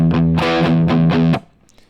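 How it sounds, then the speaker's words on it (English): Close, loud distorted electric guitar playing a verse riff: a rapid run of five or six chugging power-chord strums, then an abrupt stop into near silence. "So the verse will sound like this."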